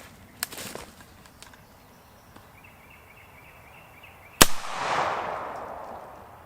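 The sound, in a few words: gunshot, 300 AAC Blackout Hornady 120 grain round fired at clay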